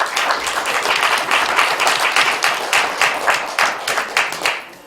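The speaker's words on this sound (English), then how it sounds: "Let's give Claudia a nice round of applause." A small audience at a historical society Black History Month event gives a round of applause for an honoree, with distinct, rhythmic individual claps close by, steady for several seconds before stopping.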